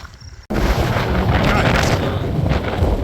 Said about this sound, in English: As the wind picks up